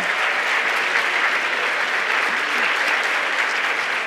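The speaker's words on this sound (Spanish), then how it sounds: "Un aplauso a don Lucrecio." Sustained applause from an audience at a public event promoting children's technology, steady and loud clapping throughout with no break.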